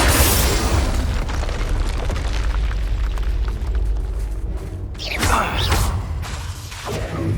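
Bombarda explosion spell in Hogwarts Legacy, a loud continuous roaring blast with rumbling debris and a whooshing burst midway, no talk.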